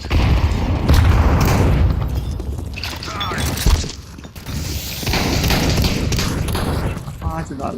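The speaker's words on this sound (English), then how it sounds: "Grenade out!" Grenade blast in a first-person shooter game, a loud booming rumble among continuous gunfire and chaotic game noise, with players talking over it.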